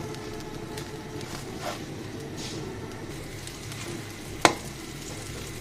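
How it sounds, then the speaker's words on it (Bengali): An aloo paratha fries in a pan with a soft, low, steady sizzle, and a single sharp tap is heard near the end. "এপিট ওপিট উল্টিয়ে আমি সুন্দর করে নাস্তাটাকে ভেজে নিচ্ছি"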